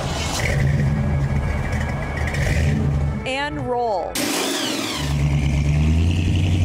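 Classic car engines rev loudly and continuously during Modesto's Graffiti Summer celebration of the valley's car culture, broken by a short, sharp burst of another sound midway, with a voice speaking briefly.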